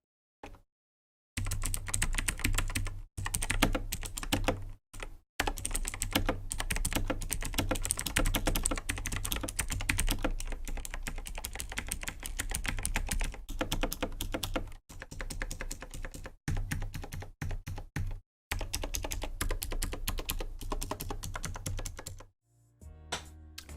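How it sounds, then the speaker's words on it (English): Rapid, continuous clacking of keys on a Razer BlackWidow Chroma V2 mechanical keyboard with Razer Green switches and O-rings installed, dense and close, with a few short pauses and slightly muted key bottoming. "one final sound test of the Razer Blackwidow Chroma V2 with the O-ring"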